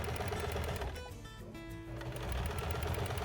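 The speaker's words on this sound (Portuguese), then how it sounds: "a gente vai mostrar pra vocês assim que a Natasha finalizar a costura" A sewing machine stitches a two-colour mug rug in a fast, steady mechanical whir that runs loud throughout, dipping briefly in the middle before picking back up.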